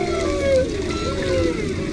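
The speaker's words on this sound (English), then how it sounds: "Multiple animals vocalizing on top of one another in a noisy environment." Several underwater animals, whale-like, call over one another in a noisy field recording, with long overlapping tonal moans and sweeps set against a constant wash of water noise.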